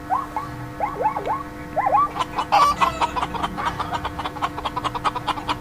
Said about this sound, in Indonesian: Chicken, ayam.